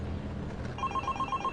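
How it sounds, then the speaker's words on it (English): A telephone rings at home, a regular electronic trill of short repeated pulses starting partway through, fairly quiet over a low background hum. "Then the phone rang"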